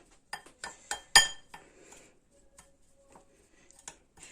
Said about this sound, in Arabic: نقلب كل المكونات كده